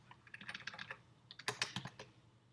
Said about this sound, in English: Or I could just type in each one.